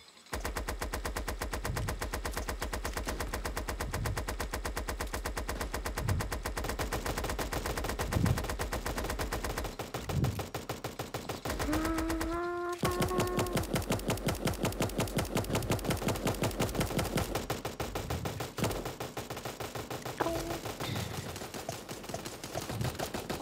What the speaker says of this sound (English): It's a minigun.